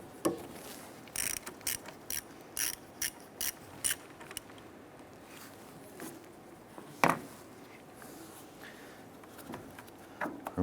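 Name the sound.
ratchet loosening battery terminal bolt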